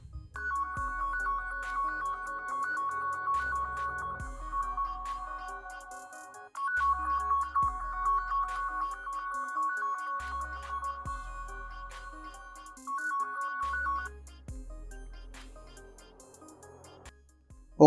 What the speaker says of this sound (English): I will click on play sound option and just listen the following ringing sound